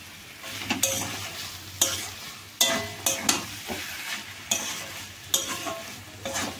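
A spoon scrapes and stirs cabbage curry in a frying pan after home-roasted spice mix is added, giving repeated sharp clinks over a steady sizzle.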